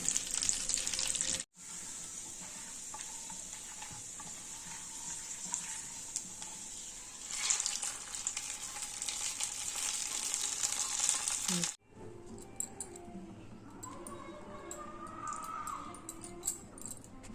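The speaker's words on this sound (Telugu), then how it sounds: "ఇది చిన్న సెగ మీద వేయించుకోవాలి బాదం కానీ జీడిపప్పు కానీ" Almonds or cashews fry in a pan over a low flame for a sesame-seed jaggery payasam, giving a steady close sizzle with occasional light clinks and stirring. The tone shifts and thins after a brief break midway.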